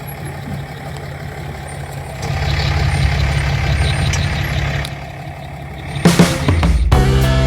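A vehicle idles and rumbles while towing a Black Series overland travel trailer on a roadside dirt turnout, the engine growing louder partway through, followed by sharp hissing bursts near the end.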